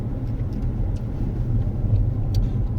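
A Tesla Model S 70D electric car rolls slowly along a small road, with a steady low rumble of tyres and road noise throughout and no voices.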